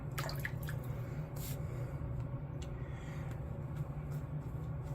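Water drips onto shaving soap with a few sharp, irregular drops over a steady low background hum, close and fairly quiet.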